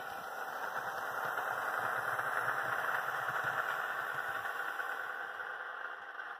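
A steady EMD 645 diesel locomotive engine idles with a deep, rumbling throb and faint rattling, holding constant for several seconds without talk.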